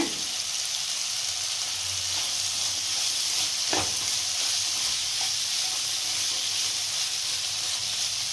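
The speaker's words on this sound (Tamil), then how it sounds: "தேங்காய் போட்டு 1 நிமிஷம் கலக்கி அப்படியே அடுப்பில் இருக்கட்டுங்க." Ridge gourd poriyal with freshly grated coconut frying in a pan, a steady close sizzle and hiss with a few scraping stirs of the spoon, no voices.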